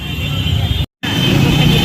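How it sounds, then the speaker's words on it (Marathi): A vehicle carrying a Ganpati idol for immersion pulls away with a steady, loud engine rumble and road noise, cut by a brief dropout of silence, as voices speak nearby. "आपली गाडी निघाली"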